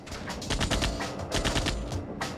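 A tank's cannon firing in a Sega Saturn video game: rapid, repeated loud bursts in a rough rhythm, like a string of close shots, with no talk over them.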